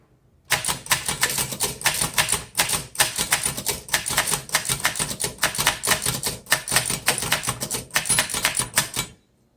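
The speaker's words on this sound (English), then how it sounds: "this types better than a lot of typewriters" A 1913 Corona 3 antique typewriter clacks continuously at close range, rapid keystrokes in bursts with brief pauses, loud and crisp with no voices.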